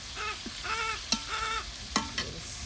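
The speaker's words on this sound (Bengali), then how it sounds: "আমাদের পেঁয়াজ ভাজা হয়ে গেছে" Onions fry in a pan with a steady sizzle, broken by a few sharp clicks and scrapes as they are stirred; close and moderately loud, with no talking.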